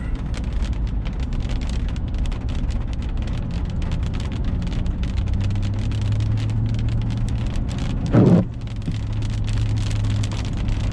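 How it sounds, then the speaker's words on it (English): A light rain shower taps across a pickup truck's roof and windshield on Highway 30 in Kuwait over a droning engine, with a brief louder whoosh partway through. "Passing little shower."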